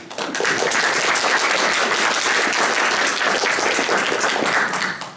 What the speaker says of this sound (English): Maybe if you could keep your applause until we're finished and share it.